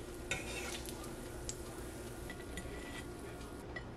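Bean patties fry in a pan with a steady, close sizzle, broken by a few scraping and clinking utensil touches.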